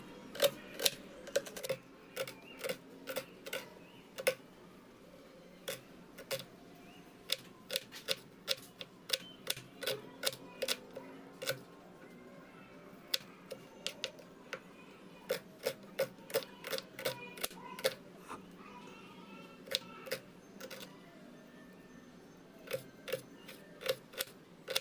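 A knife finely chopping onion on a cutting board gives rapid, sharp, evenly spaced taps, close and crisp, in quick runs with brief pauses over a quiet room background.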